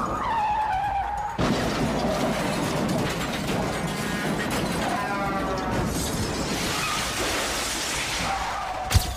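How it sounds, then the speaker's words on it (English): A police cruiser skids with tires screeching, then crashes into a semi-truck with a loud, sustained burst of crunching metal and shattering glass, with no speech. "the cruiser swerves, loses control, and crashes into a semi-truck"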